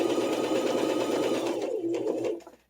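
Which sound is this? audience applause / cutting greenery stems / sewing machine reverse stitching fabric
sewing machine reverse stitching fabric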